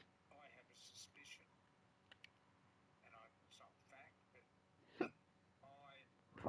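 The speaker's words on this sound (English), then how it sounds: "Fucking hiccups" Sharp, isolated hiccups from a gamer during a rugby league game stream, two or three abrupt bursts spaced seconds apart, close and quiet, amid soft muttered speech.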